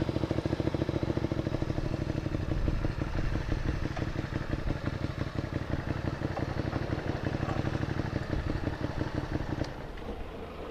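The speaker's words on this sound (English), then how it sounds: "Wow, some big bikes." Big motorcycles passing on the Irohazaka mountain road in Japan, with a steady, rapidly pulsing engine rumble and clatter heard from the rider's own bike, faint and constant, easing slightly near the end.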